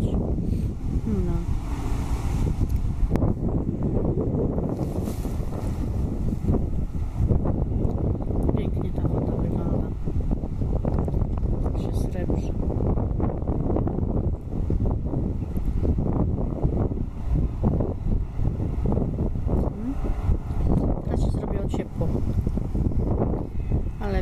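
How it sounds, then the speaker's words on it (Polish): Heavy wind buffets the microphone in a steady, loud roar, with a voice talking underneath. "Wieje wiatr i pewnie nie będziecie słyszeli,"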